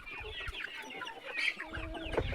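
Free-range chickens cluck on a small farm, soft overlapping clucks and short calls from several birds close by, steady and fairly quiet with no talking.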